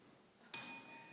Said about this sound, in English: ring the bell for me, please